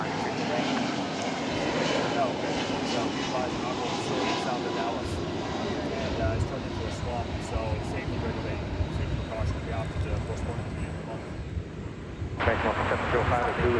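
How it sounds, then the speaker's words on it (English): An Airbus A330-200 airliner arriving from Madrid rumbles with a continuous, moderately distant engine roar, while a voice talks over it throughout and faint radio chatter sits in the background. "It's an Airbus A330 200 coming in from Madrid."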